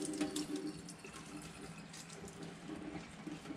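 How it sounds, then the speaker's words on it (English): Water streams and trickles from a rinsed sponge roller being wrung out by hand from a Bissell Crosswave PetPro floor cleaner, a soft, steady splashing over a sink that continues for several seconds at low volume. "I just take the sponge part and I wring it out."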